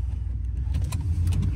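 A Chevy truck engine runs at a low, steady rumble close by, with a few faint clicks and rattles over the top.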